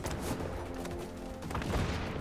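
Shotgun fire in a video game booms amid a dense, noisy wash of combat sound, with heavy blasts near the start and again toward the end and no talk.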